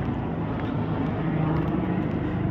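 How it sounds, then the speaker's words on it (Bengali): Helicopters flying overhead along the Amarnath pilgrimage route, producing a loud, continuous rotor and engine drone that stays steady throughout, with no talking. "কত হেলিকপ্টার যাচ্ছে,"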